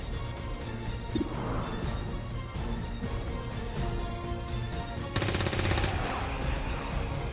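Automatic gunfire from the turn-based strategy video game XCOM 2, loud, dense bursts of shots and impacts, intensifying near the end over a game soundtrack.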